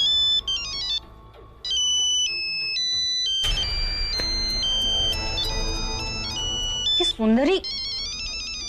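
An incoming-call mobile phone ringtone plays as a loud stepped electronic melody, pausing briefly and then repeating over a dramatic music bed, with a short voice speaking near the end.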